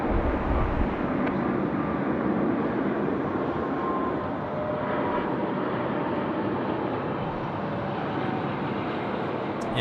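An aircraft takes off on runway 16 right at Sydney Airport with a sustained, broad jet engine roar that stays loud and steady throughout, heard from a distance.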